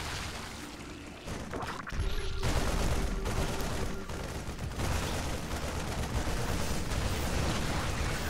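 Siege tank fire in StarCraft II during a Terran versus Zerg match, with dense, continuous booming explosions and blasts pounding roaches, loud and sustained after a brief quieter start.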